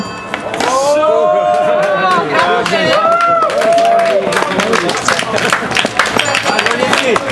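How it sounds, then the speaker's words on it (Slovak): At a prize-winner announcement during a mobility-week event, a crowd claps, and the applause builds into dense, steady clapping while several people talk and call out over it. "Teraz bude veľký potlesk"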